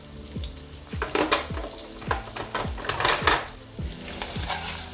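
Onion and mixed vegetables fry in a pan for a diet cabbage sour soup, a steady close sizzle broken by repeated clinks and scrapes of a utensil stirring against the pan, with no talk.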